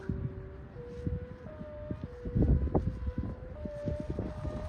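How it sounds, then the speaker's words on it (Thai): Strong gusting wind roars against the microphone while a Thai chula kite is flown outdoors, steady and loud throughout, with a faint siren-like whistling tone rising and falling over it. "โอ้โหลมแรงมาก"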